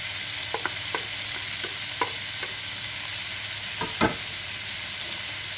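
Vegetables, cabbage among them, fry in a skillet with a steady, close hiss, broken by a few light scrapes and clicks as they are stirred, including one firmer knock near the end.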